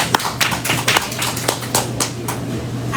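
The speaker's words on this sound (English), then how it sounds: "Clap it up." A small audience at a live in-person gathering claps close by, with distinct sharp hand claps in an uneven rhythm over a steady low hum.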